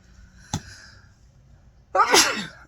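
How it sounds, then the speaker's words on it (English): A single sharp sneeze bursts out near the end, preceded by a brief click or sharp intake, in an otherwise quiet room. "I had a sneeze, so I do apologize ahead of time if I do sneeze."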